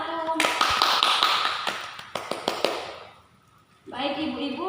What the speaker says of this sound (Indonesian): Kita beri aplaus dulu untuk kelompok 1.